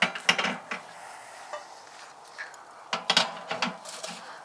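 Heavy cast iron half-moon grates being set onto a Kamado Joe ceramic grill, giving several sharp metallic clanks and scrapes in irregular bursts, close and fairly loud, with quieter rattles between.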